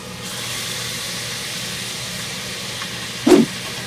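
A steady hiss of steam from croaker fish steaming in a pot fills the background, with a brief sharp clatter near the end.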